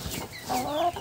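A chicken, its beak just trimmed by singeing, gives a short, fairly close cluck, one quick throaty call lasting about a second.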